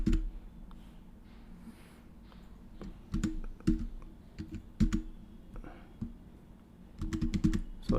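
Computer keyboard typing while writing code for a Codeigniter 4 file upload tutorial, with irregular clusters of quick key clicks separated by pauses, near and moderately loud, with no talking.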